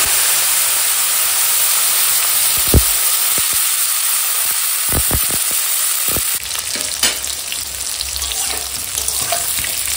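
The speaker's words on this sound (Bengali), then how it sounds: "ওই মাছ ভাজার তেলে এই ফুলকপি আলু ভেজে নেব" Steady oil sizzling and hissing as cauliflower and potatoes fry in a pan of oil previously used for frying fish, with a few clinks and stirring scrapes partway through; no talking.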